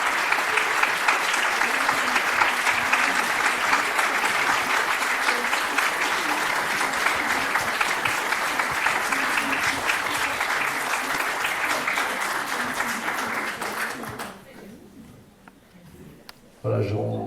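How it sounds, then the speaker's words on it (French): An audience applauds after a talk on gender theory in Tours, giving a long, steady round of clapping that fills the hall for about fourteen seconds before dying away, followed by a brief voice. "Est-ce que nous pouvons applaudir Elisabeth Montfort?"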